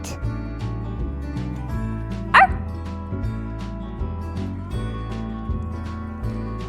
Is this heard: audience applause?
no